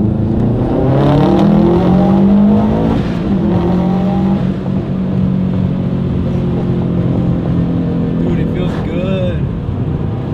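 Subaru Impreza WRX bugeye with a 6-speed swap accelerating in second gear, a loud close engine drone climbing in pitch through the revs, with people talking over it.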